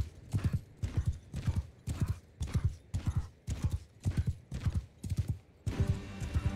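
Cavalry horses galloping in the video game Mount & Blade II: Bannerlord, with repeated rhythmic bursts of hoofbeats, loud and close, a whinny among them and a rougher clatter at the end.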